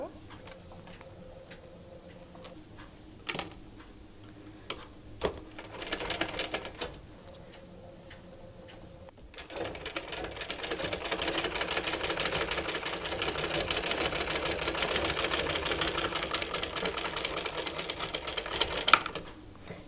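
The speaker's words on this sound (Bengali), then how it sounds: "এই দুইটা পাট একসাথে রেখে গলার সাইড যে আছে এই রাউন্ডটা আমি সেলাই করবো" A sewing machine stitching the round neckline of a baby frock, first in short stop-start bursts, then running steadily for about ten seconds in a fast, even mechanical whir at close range.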